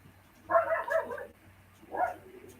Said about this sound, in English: You always hear them barking when they first come out.